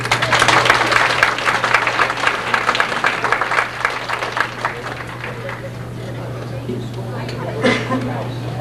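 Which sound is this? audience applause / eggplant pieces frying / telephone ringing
audience applause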